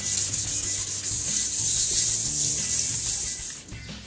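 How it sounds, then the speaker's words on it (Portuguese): 320-grit sandpaper rubs back and forth around a scratch on a Lifan's painted panel, a close, continuous gritty hiss of quick sanding strokes with no pauses. "você vem com a lixa e dá uma lixada em volta"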